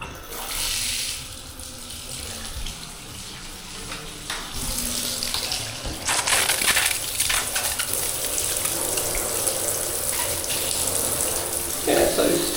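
A hotel bathroom shower over a bathtub runs steadily, with water spraying and splashing into the tub in a constant close hiss that swells partway through.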